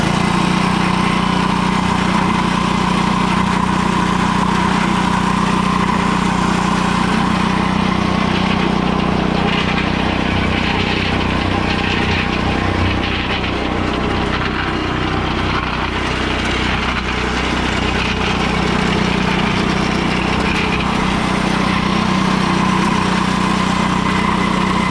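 An old cement mixer's small engine runs steadily after a pull start, a loud, close, continuous mechanical drone with no talk over it.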